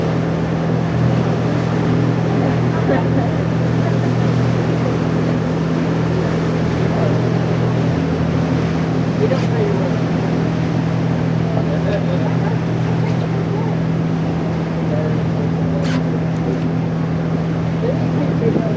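A steady, droning boat engine hums on the water throughout a dolphin-watching trip, with wind and water noise; people talk faintly under it.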